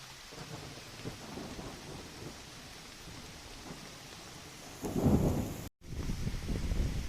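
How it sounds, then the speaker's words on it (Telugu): Heavy rain pours down with deep thunder rumbling during a wet motorcycle ride, a steady close hiss of downpour swelling into a louder rumble before a brief dropout and then resuming. "ఫుల్ వర్షం, కంప్లీట్గా తడిసిపోయాను అసలు."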